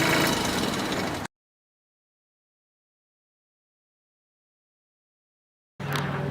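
An overheating tractor engine idles with a steady rumble, then cuts out abruptly into several seconds of complete silence before the engine noise briefly returns.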